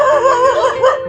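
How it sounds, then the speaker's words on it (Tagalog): Dogs give a quick, wavering burst of high yelping cries, close and fairly loud, lasting about a second with no voices over it. "Ayun, may mga aso."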